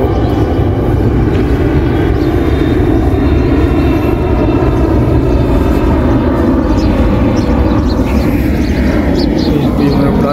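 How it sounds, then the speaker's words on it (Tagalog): Airplane engine roar, loud and continuous, passing over the Expo 2020 parking area in Dubai, a broad rumble that shifts slightly in tone toward the end, with a voice talking over it. "Ayan po yung aeroplano guys"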